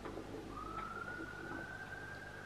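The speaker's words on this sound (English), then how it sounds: "There's a lot of sirens in the background as well." A siren wails faintly in the distance behind a tennis match, a single rising tone that holds steady over low background hum.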